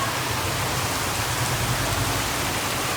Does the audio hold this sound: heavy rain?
yes